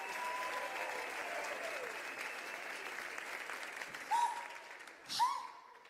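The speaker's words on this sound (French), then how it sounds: "Applaudissements pour les Vocal People" Audience applause at a vocal performance show, a broad, even spread of clapping at moderate level, with a couple of brief whooping shouts near the end.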